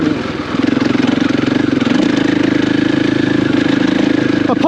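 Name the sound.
torquey 500cc motorcycle engine running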